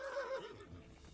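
A horse in the medieval video game Kingdom Come Deliverance lets out one short, faint whinny that trails off into a soft snort, heard alone.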